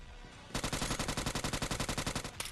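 Rapid automatic gunfire in the ScarFall 2.0 battle royale game knocks down an enemy, a sudden loud burst of evenly spaced shots lasting about two seconds, with no talk.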